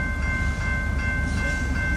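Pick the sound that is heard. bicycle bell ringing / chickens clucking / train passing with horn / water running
train passing with horn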